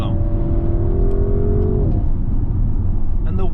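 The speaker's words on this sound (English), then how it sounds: "I've waited very long to drive an Audi RS7" Audi RS7 engine pulling hard, a loud droning rumble with a rising tone that drops off midway, heard from inside the car with steady road roar.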